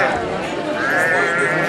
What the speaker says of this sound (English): These are the cattle and the sheep.